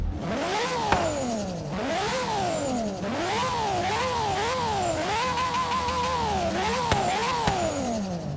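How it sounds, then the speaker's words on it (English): A 1995 Nissan Nismo GT-R LM with an RB26 engine in Forza Horizon 3 revs repeatedly, its pitch sweeping up and down through several high-revving cycles, loud and close with no talk. "this thing has an RB26 in it, so you obviously know that it's going to sound very nice"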